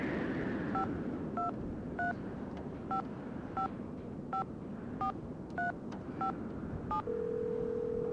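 A telephone is dialed in a Nancy Drew video game. About eleven evenly spaced touch-tone beeps play over a low background hum, followed by a steady tone at the end. No one speaks.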